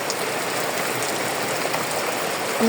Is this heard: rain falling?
yes